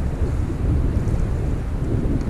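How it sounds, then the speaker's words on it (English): Strong gusting wind buffets the microphone on an open lake during a kayak fishing outing, a constant loud roar with choppy water noise underneath and no other sounds. "Man, this wind is so crazy."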